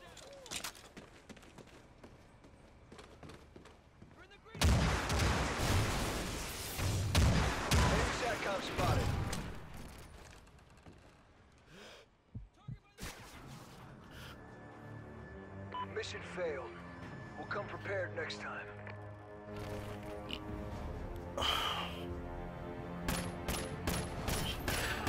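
Bursts of rapid rifle gunfire in a first-person shooter video game, from an ACOG-scoped rifle, loud volleys in the first half and scattered shots later, with someone talking over much of it.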